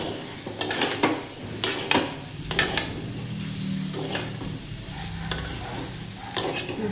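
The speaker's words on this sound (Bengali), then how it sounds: "সাতলানি দিয়ে দেবো আলু" Potatoes sauté in spices in a pan, a steady close sizzle broken by repeated scraping and clinking stirs of a utensil against the metal, with no talking.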